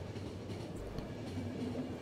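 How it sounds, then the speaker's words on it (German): Train rolling along in the game The Final Station, a steady low rumble of wheels and carriage noise running continuously, moderately loud with a faint clatter and no talking. "dann fährt der Zug halt weiter"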